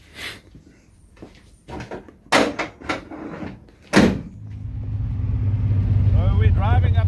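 Panels on a vintage 1938 SS Jaguar drophead 3½-litre being shut, a few sharp close thuds and clunks, then the engine starts and rumbles steadily as the car pulls away, with people talking early on.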